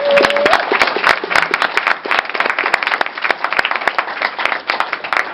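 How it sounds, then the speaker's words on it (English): Youth performers at a Toronto Kiwanis Boys and Girls Club community event get loud, sustained audience applause, dense overlapping claps running through the whole stretch with a brief tone at the start. "I want you guys to give a round of applause for them"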